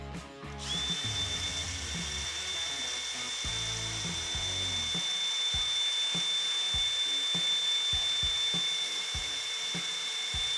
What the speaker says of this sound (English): Polishing. More polishing.